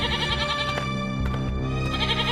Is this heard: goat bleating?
yes